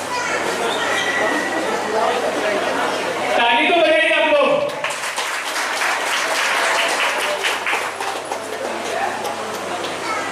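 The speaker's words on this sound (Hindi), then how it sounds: "एक बार जोरदार ताली बजा दीजिए।" An audience applauds at a felicitation ceremony for NEET-qualified students held by a coaching foundation, with dense, sustained clapping filling the room, briefly broken by a louder voice before the clapping resumes strongly.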